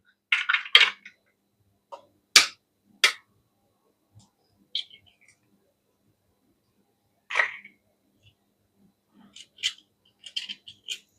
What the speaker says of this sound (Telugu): ఇలా నైఫ్తో కట్ చేస్తే సూపర్గా కట్ అయిపోతాయి